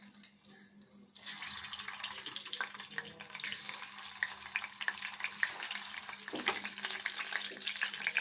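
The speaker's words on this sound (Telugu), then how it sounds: "ఈ గీట్లు పెట్టుకున్న గుడ్లు అయితే వేంపుకుందాము" Scored eggs fry in a spoonful of oil with turmeric for a tomato egg gravy, a steady close crackling sizzle that starts abruptly after a second of quiet and holds loud to the end.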